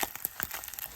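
A package of polenta being opened in a home kitchen, a short burst of close crinkling and tearing of packaging, quiet and quick with no voices.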